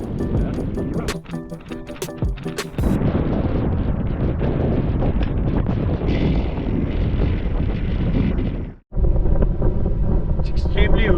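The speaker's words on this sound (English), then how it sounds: "It's extremely windy." Strong wind roars and buffets the microphone during a bikepacking ride through Ladakh toward Hanle, a loud, continuous rumble that briefly drops out before surging back.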